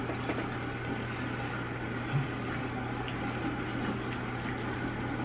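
Water runs and splashes steadily as a face is washed, a continuous close wash of liquid noise over a low constant hum, with no clear breaks.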